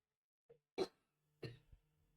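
Two short, sharp coughs, close and clear, separated by a brief pause, with a faint small sound before the first.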